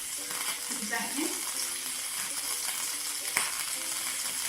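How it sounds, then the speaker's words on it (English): Beef and vegetables in oil sizzle steadily in a hot pan for a Korean chilli stir-fry, a constant crackling hiss with a faint voice-like murmur and a brief clink. "So it's time to sizzle and add a little bit more oil."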